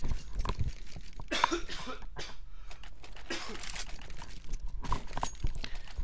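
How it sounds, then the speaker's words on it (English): An esports caster coughs during a CS:GO ESL Pro League match broadcast, several close, sharp coughs and throat clearings in uneven bursts with brief pauses between them, alone without talk. "Let me just cough real quick."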